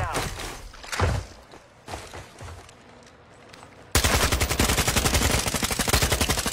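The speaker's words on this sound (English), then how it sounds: "This boy's shooting at me." Video game gunfire in a tactical shooter match, with scattered shots and thuds early, then a loud, dense burst of rapid automatic fire under occasional speech.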